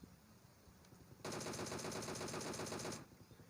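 Rapid automatic gunfire in a shooter video game, a single sustained burst of nearly two seconds cutting in sharply over quieter background game sounds.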